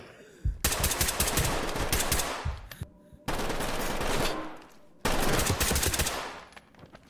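Three bursts of rapid automatic gunfire in the tactical shooter Ready or Not, each a loud, close, dense rattle lasting a couple of seconds, separated by brief near-silent gaps.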